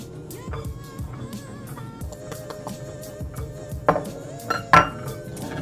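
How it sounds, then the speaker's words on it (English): A spoon scrapes and clinks against a large bowl as eggs, coffee, vanilla and sugar are stirred, giving irregular close taps and scrapes with a few sharper metallic clinks near the end. "in a large bowl, I'm going to stir the eggs, the coffee,"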